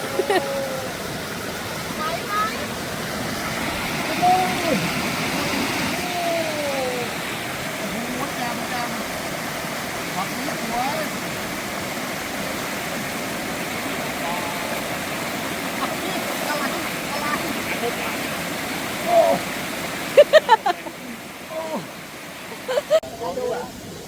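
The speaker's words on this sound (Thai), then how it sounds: "มาถึงสักทีท่านผู้ชม น้ำตกปลาละอู" Steady rushing water of Pala-U Waterfall in Thailand roars throughout, with people talking over it and a few knocks and bumps toward the end.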